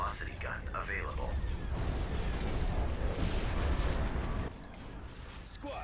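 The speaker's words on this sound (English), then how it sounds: "Hypervelocity cannon firing." A hypervelocity cannon fires in a Star Wars space strategy video game, a sustained loud roaring burst of heavy fire that cuts off sharply, with a voice speaking over it.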